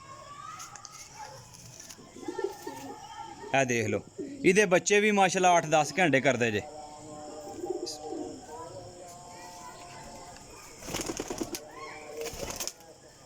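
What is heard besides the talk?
breeder pigeons cooing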